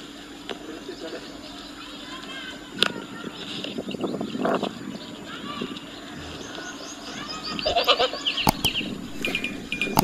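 A herd of goats in a village, bleating in scattered calls against outdoor background noise while someone talks over them.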